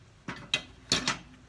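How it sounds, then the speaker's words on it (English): Metal heat deflectors are set into a smoker grill with four quick clanks in two pairs, close and fairly bright, and no voice over them. "I'm going to put the heat deflectors in here"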